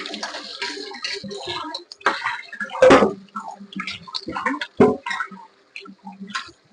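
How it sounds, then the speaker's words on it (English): A cooking pot, an old Hurricane Katrina pot, being rinsed with water, splashing and clattering sloshes with a few sharp knocks, close and fairly loud. "Also, I got to rinse out this pot again."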